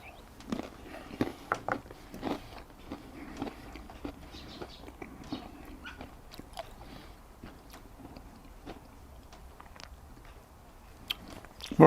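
Someone bites and chews a cracker topped with Danish feta cheese, the crisp crunches close to the mic, irregular and fairly quiet, with a louder bite near the end.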